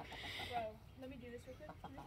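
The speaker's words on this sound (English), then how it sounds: "I started off with 15 of these black chickens in here, these black Brahmas" Black Brahma chickens cluck nearby in a few short, soft calls over quiet background noise.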